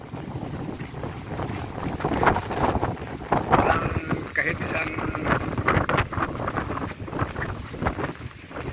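Strong sea waves and gusty wind buffet a boat off Sibulan, the churning water and wind rumble steady and close throughout while someone talks over it.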